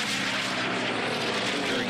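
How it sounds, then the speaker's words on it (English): The Unlimited-class race plane Dreadnought roars past in an eight-plane field at the Reno Air Races, a loud, steady engine drone that fills the whole moment, heard alone without commentary. "Dreadnought continues lapping, going past plane after plane in this eight-plane field."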